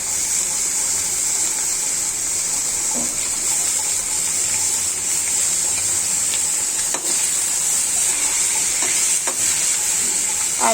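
Rui fish pieces sizzle in hot, already-fried spiced oil, a continuous bright hiss with occasional pops and clatters of stirring.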